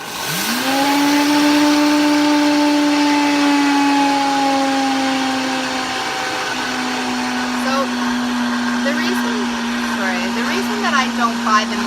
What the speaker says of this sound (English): I'm just going to grind it to a low, fine flour